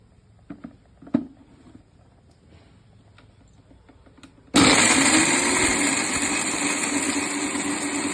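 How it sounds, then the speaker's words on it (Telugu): After a few soft clicks and knocks, a mixer grinder grinding cloves, cardamom and cinnamon starts abruptly and roars loudly and steadily with a high whine until the end. "అదిగో ఇప్పుడు మళ్ళీ మిక్సీ వేసుకుందాం అండి"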